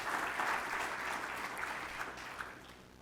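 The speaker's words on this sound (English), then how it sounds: "one more round of applause for our CIO Leadership Award" Audience at a CIO symposium applauds award finalists, giving a sustained, even round of clapping at moderate volume that gradually fades.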